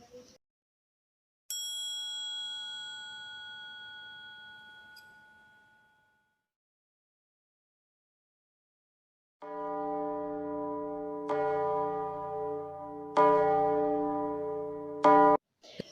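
A single small bell strikes a bright, high, ringing tone that slowly fades; after a pause, a larger bell tolls with deep, rich tones, struck several times.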